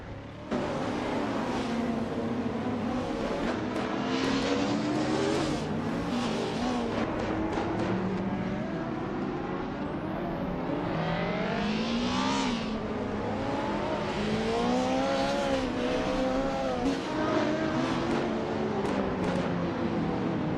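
Race cars, including a 2015 Jaguar F-Type Project 7, roar steadily through a racing video game, engines rising and falling in pitch as they shift and pass, loud and continuous with no talk.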